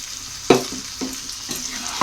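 Fish simmering and sautéing in spices with coconut milk in a pan, giving a steady soft sizzle broken by a few brief stirring scrapes, close by, with no one talking.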